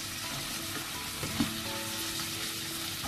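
Onions sizzle and fry in a pan over high heat, a steady dense crackle that runs the whole time, with a small clink or stir partway through and no voices.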